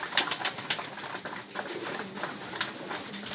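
Racing pigeons coo in soft repeated calls, close by, with light fluttering and shuffling between them.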